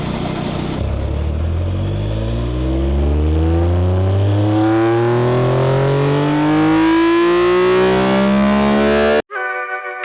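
A stock Yamaha R9 motorcycle makes a fifth-gear dyno pull, its engine rising steadily in pitch and loudness into a hard high-rev wail for about nine seconds before cutting off abruptly.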